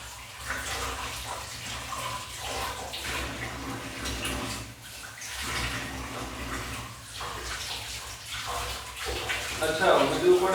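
Water runs continuously from a tap as something is washed, a steady splashing rush heard nearby while people talk over it.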